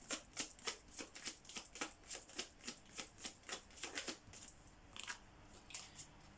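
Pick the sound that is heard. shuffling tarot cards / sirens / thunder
shuffling tarot cards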